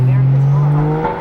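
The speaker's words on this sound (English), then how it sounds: "It looks like the McLaren Senna with Gigi Papasavas is leaving the show" A McLaren Senna supercar pulls away from a car show in Texas with a strong, rising engine drone, close and loud, while voices talk over it.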